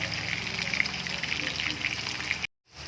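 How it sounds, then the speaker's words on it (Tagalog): Tilapia frying in a pan while tomatoes are sautéed nearby, a steady close crackling sizzle with bright spattering pops throughout, cutting out abruptly near the end before faint sizzling returns. "nandito rin yung piniprito natin yung tilapia"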